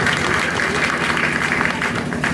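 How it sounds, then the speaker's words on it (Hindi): A crowd at an Indian by-election political rally claps loudly and steadily to welcome MLA P.N. Garg, a dense, continuous wash of applause with no voices over it. "आप जोरदार ताली बजाकर स्वागत कर रहे हैं।"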